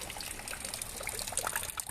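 Water is splashed and poured over the feet during a Balinese melukat purification bath at Pura Campuhan Segara, a steady close trickle with small irregular splashes.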